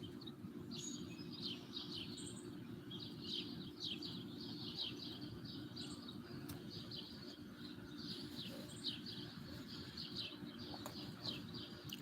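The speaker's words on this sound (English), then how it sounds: "Hopefully you can hear the bird song." Faint evening birdsong in southeast Illinois, with repeated chirps and short trills, drifts over a low rumbling background, distant and quiet throughout.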